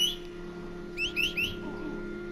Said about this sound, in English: Usually when I whistle, they whistle back.